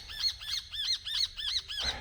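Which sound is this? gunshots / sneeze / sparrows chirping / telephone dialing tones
sparrows chirping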